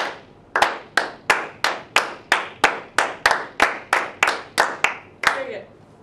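A steady series of about fourteen sharp hand claps in an even rhythm, each crisp and close, with a brief tail after the last clap.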